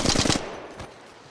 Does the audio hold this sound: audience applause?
no